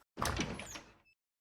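A door slides open in one quick, close rasping sweep that fades into silence, a brief sound effect with nobody speaking.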